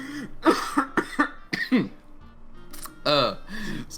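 A person coughs several times in quick, sharp bursts mixed with throaty laughter-like sounds during a tabletop D&D game session, close up, followed by a brief vocal noise.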